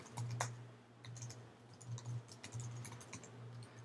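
An essay being typed on a computer keyboard, a quiet close patter of keys in quick irregular bursts with brief pauses, and no talk over it.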